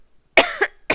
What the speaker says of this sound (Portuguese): Deixa eu terminar de tossir.